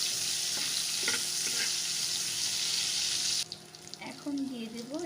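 Onion fries lightly in a pan with a bright, steady sizzle and occasional stirring, which cuts off abruptly near the end, leaving quieter kitchen sounds and a brief voice.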